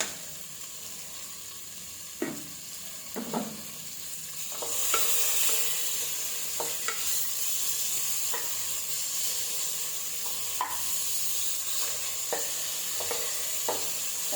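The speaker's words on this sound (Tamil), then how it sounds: "தக்காளியையும் அது கூட போட்டு வதக்கிக்கலாம்." Chopped tomatoes with mushrooms sauté in a pan for mushroom biryani, a steady low sizzle broken by occasional scraping stirs, close and moderately quiet, with no talk.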